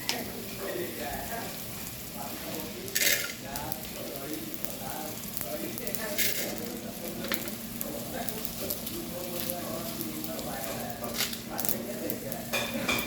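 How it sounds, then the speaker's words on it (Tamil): Ingredients crackle and rustle in a hot dry pan, with occasional scraping and clinks of a spoon, under a person talking. "பாத்திரம் சூடாகிட்டு இதில் போட்டு வறுத்தெடுக்கணும்."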